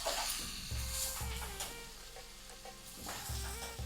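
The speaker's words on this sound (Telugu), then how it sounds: "ఇప్పుడు ఒకసారి కలుపుకోండి." A cabbage fry mixture is stirred in a pan on the stove, with soft scraping strokes in a few separate bursts over a faint, steady sizzle, quiet and close.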